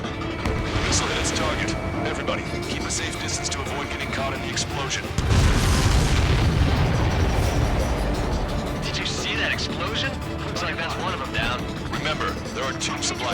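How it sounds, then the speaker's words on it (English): A missile strike and explosion in the combat flight game Ace Combat 7 brings a heavy boom and rumble over continuous jet and battle noise, with radio chatter running throughout. "Missile hit its target. Everybody, keep a safe distance to avoid getting caught in the explosion."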